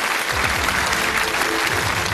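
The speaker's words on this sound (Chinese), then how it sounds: "来掌声送给这位女观众" A studio audience claps at a Chinese television game show, dense sustained applause that is loud and close throughout, with no speech over it.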